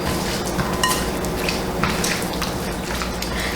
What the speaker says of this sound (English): And all you have to do now is mix to combine.